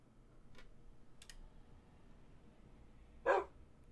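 A wolf in a Minecraft UHC match gives a single short bark, fairly close but soft, against a quiet game background after a few faint clicks.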